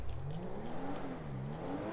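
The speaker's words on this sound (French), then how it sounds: "Regardez comme le bruit du moteur." A Porsche engine in GTA revs with a rising, wavering whine over a constant low roar, steady and fairly close throughout.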